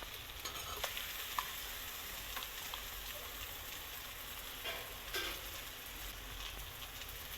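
Coriander powder and spices fry in a pan while being stirred, giving a faint, steady sizzle with scattered light scrapes and clicks of the spoon, no voices.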